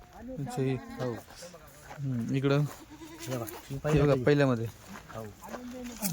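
Kathiawadi goats bleating repeatedly close by, one large tethered doe among several, with wavering cries rising and falling across the whole stretch while someone talks over them.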